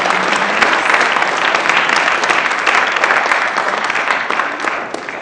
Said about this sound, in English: Can we give a really big round of applause here?